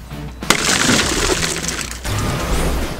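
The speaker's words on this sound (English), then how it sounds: "simply place the device firmly against the window and press until you hear a click and the window breaks" A rescue window punch clicks and shatters a tempered car window in one sharp crack, then a dense, loud crackle of glass crumbling into small pieces that keeps on for a few seconds.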